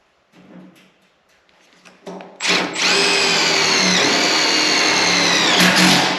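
Power drill driving screws into the firewall of a 1973 Plymouth Cuda, a few quiet taps and short bursts, then a loud, steady high whine held close up for several seconds.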